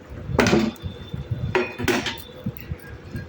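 Utensil scraping and clinking against a pot while paneer is stirred into mixed vegetables, a few short metallic bursts with quieter gaps between them, close by.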